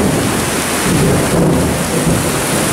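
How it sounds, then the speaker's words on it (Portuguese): Heavy rain pours down in Conselheiro Lafaiete, Minas Gerais, Brazil, a dense, loud, steady roar of downpour with rumbling thunder underneath, with no voices. "Vejam só a quantidade de chuva que está caindo."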